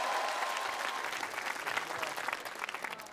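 Studio audience applause at a Russian TV show, a steady dense burst of clapping that fills the whole moment, with faint voices mixed underneath.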